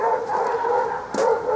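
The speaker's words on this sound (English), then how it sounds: "There go the dogs across the road." Dogs across the road bark and yip at a distance, a faint, steady tone with a sharp yelp near the end, heard from inside a caravan.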